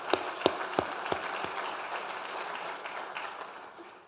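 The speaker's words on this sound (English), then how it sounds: "please give yourselves a round of applause" Keynote audience applause, opening with several loud distinct claps in a slow rhythm, then settling into a softer, fading patter of clapping across the room.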